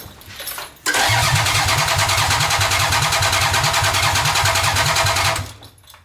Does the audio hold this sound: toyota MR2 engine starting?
yes